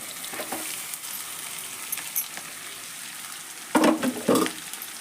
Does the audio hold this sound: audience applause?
no